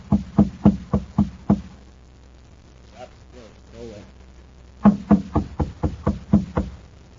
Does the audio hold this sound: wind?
no